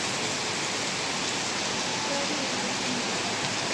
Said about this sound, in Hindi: बारिश आ रही है, बहुत तेज़ है बारिश